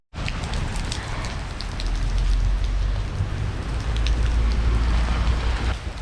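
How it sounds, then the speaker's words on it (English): Heavy rain falls steadily on a day trip in the Tigre Delta near Buenos Aires, a dense continuous hiss and patter with low rumble, loud and close, no talking. "The rain has gotten so much"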